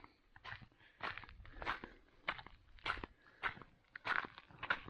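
Footsteps crunch over salt lake ground, about eight close, loud, evenly spaced steps with gritty broadband crunches, no talking.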